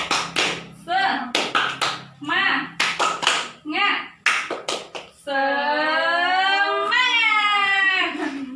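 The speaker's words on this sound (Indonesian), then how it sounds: "Kita tepuk semangat dulu" A group of women standing up at a finance and business-planning training session perform a rhythmic spirit clap, with quick bursts of claps broken by voices and then a long, sustained shouted chant.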